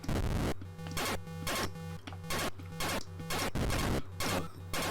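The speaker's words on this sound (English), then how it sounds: "Just going to shoot these little white UFO guys." Laser shots strike little white UFOs in the Atari 2600 game Beamrider: loud, harsh electronic crashes repeat in a rapid rhythm over a low buzzing tone.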